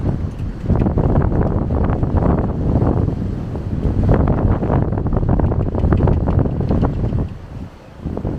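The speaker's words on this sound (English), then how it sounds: "And that breeze is really strong." Strong wind buffeting the microphone in heavy continuous gusts at Los Gigantes, Tenerife, with a roar of rough sea surf underneath, easing briefly near the end.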